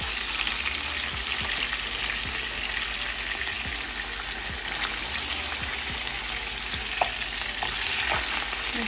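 A salmon fillet frying in a hot pan gives a steady, close, continuous sizzle with faint crackles throughout, with no talking.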